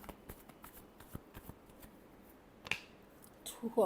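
Tarot cards being shuffled, a few soft riffling and tapping bursts near the end over a quiet background, close by.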